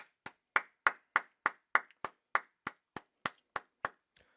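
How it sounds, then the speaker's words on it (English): About fourteen sharp hand claps land in a steady, evenly spaced rhythm, loud and close, at a Tuesday night brotherhood class. The claps sound nearly unison, as from a small group in one room, with no talking. "All right, clap it up."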